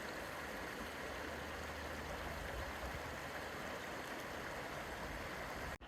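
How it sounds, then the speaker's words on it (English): A creek in the Eastern Sierra, where salmon run, flows with a steady, broad rushing wash that holds evenly from start to finish before cutting off abruptly at the very end. "Beautiful creek."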